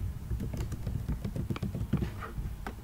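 Rapid, uneven clicking from a computer keyboard as a search query is typed, a steady patter of close keystrokes running continuously for a few seconds.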